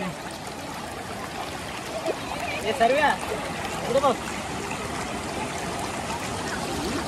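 Steady rushing water from the Savdav waterfall fills the scene, a constant broadband roar with occasional splashes, while several people talk and shout nearby over it.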